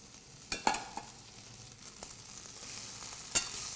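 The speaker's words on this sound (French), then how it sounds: "On déglace un tout petit peu nos asperges avec un tout petit peu de fond blanc." Green asparagus in a pan with a lightly crushed garlic clove, deglazed with a splash of white stock, sizzling and frying softly with a few sharp clinks and stirring knocks.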